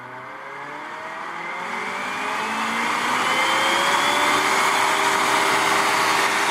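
Dell server cooling fans spin up in a living room, their whine rising steadily in pitch and volume to a loud, continuous roar, with no voices.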